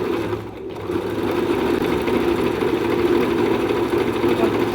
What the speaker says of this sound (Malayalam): ഞാൻ ഓരോന്ന് ഇട്ടിട്ട് ഞാൻ സ്റ്റിച്ച് ചെയ്ത് കാണിക്കാം